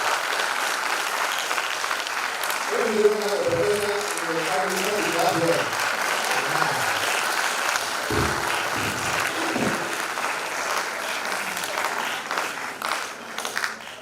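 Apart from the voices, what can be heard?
audience applause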